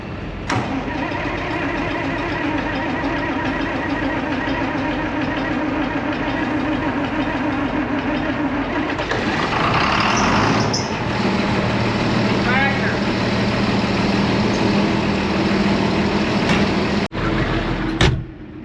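A tractor that sat all winter turns over and starts, then settles into a steady mid-pitched idle, close and loud, with someone talking briefly over it.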